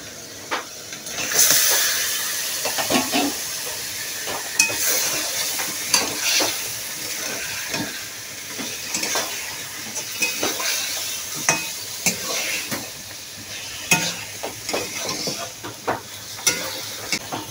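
Koi fish hitting a pan of fried spice paste, a steady sizzle and frying crackle with scattered scrapes and clinks of a spatula against the pan.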